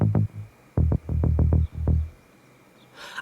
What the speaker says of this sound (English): I had this bass loop from Splice.